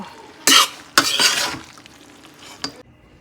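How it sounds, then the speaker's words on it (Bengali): Boiled pasta being mixed into a prepared sauce, with a few sharp scraping stirs of a spoon against the pan in quick succession, then quieter rustling and one last brief scrape, close and fairly loud. "পাস্তাটার মধ্যে দিয়ে দিচ্ছি এবার মিশিয়ে নেব"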